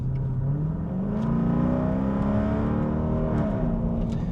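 Modified Dodge Durango with a 5.7 V8 accelerating, a loud close engine note rising steadily in pitch as it pulls, with no talk over it.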